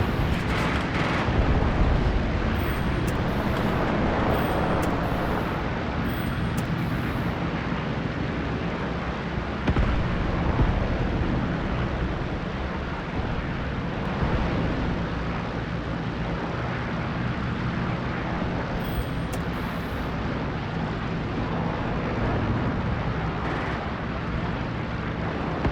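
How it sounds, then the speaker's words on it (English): Rocket strikes and artillery explode across a battlefield in the Graviteam Pivot Point war game, a dense, continuous roar of blasts and rumble that stays loud for the whole stretch, with no voices. "Nice rocket strikes."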